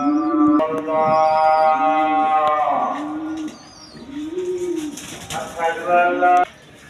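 A pair of high-flying Giribaz pigeons coo in low, rolling, repeated phrases close by, mixed with louder, harsher drawn-out calls and a few brief background noises.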